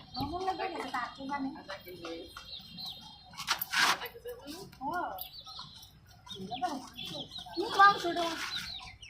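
Chickens cluck in short, repeated bursts, sometimes close and sometimes faint, while people talk over them almost the entire time.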